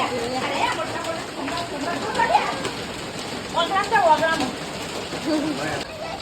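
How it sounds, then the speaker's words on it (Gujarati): Rain falls steadily outdoors at a family home, a soft continuous patter beneath people talking, with a few bird calls cutting through. "વરસાદ ચાલુ થયો"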